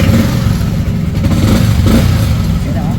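A Sniper 155 motorcycle engine, just repaired after a noisy rocker arm, idles and revs close by with a loud, steady mechanical clatter and rumble; no talk over it.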